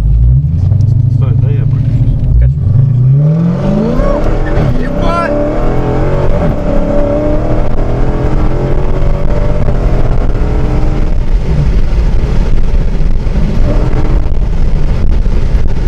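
A Dodge Challenger Hellcat of over 700 horsepower, driven on an airfield, rumbles at idle and then revs and accelerates hard with a rising engine note, loud and close from inside the car, while people talk over it.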